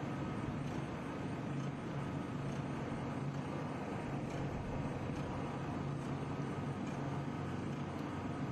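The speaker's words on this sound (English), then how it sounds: "Cars getting ready to roll from the false grid," Formula racing cars, including Ligier JFC and F4 machines, roll off the false grid at New Jersey Motorsports Park, a faint, steady, distant engine drone that holds at an even level without any clear individual pass-by.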